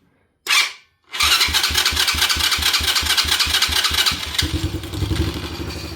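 A quad bike's small engine cranks briefly, pauses, then fires up and settles into a steady, loud, rapidly pulsing idle with the choke on, close by and alone.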